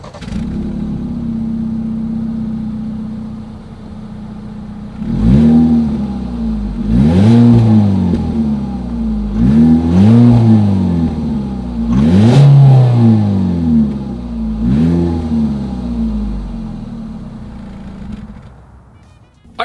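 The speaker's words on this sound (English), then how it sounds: "There is a single exhaust outlet pointed towards the ground. So I think you guys know what we have to do next here. As always, here is that exhaust clip." A 2020 Ford EcoSport's single downward-pointing exhaust idles, then is revved in about five sharp, rising blips with brief drops between them. The sound is loud and close, with no talking, and settles back to idle at the end.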